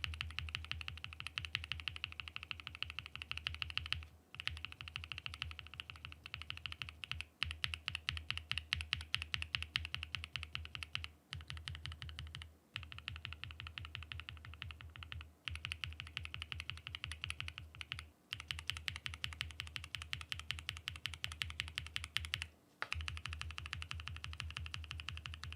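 Steady, fast typing on a Mode SixtyFive mechanical keyboard fitted with tactile Cow switches, crisp repeated clacks at close range, with a few brief pauses and no talking.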